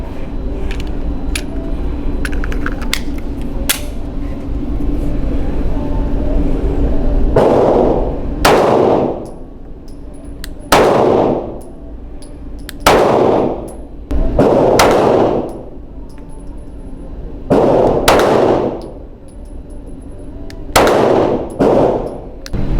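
Pistol shots from a SIG P365 and a Springfield XDM fired at a range: about eight loud, sharp reports spaced a second or two apart, each with a ringing decay, following some quieter clanks and handling noise.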